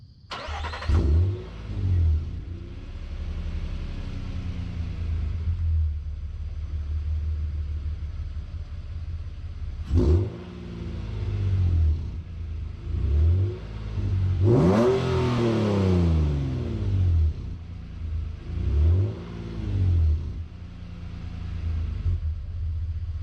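A car engine turns over in a warm start, then revs up several times in bursts, a steady low rumble idling between the revs through a new, not yet broken-in muffler.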